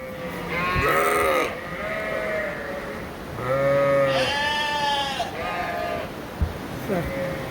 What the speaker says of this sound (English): Female sheep.